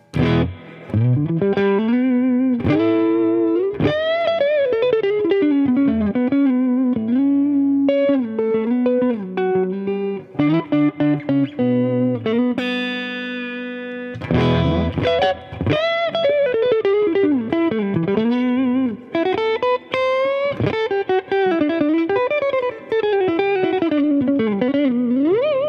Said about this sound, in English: let's see what the reverb sounds like